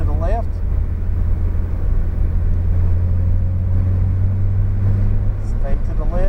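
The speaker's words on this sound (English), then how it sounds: "Accelerate up this hill toward the right." Porsche accelerating uphill on a race track, a steady loud low engine drone with a rising tone building through the run, heard from inside the car while a voice speaks briefly at the start and end.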